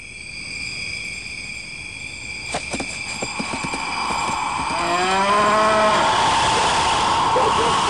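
A buffalo lets out a long, drawn-out moo that rises and swells in the latter half, loud and fairly close, over a steady background of chirping crickets and a few sharp clicks.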